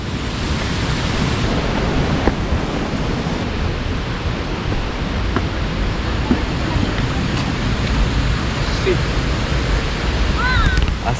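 Rajpuri waterfall in Chhattisgarh roars as a steady, dense rush of falling water, loud and unbroken, with faint distant voices beneath it.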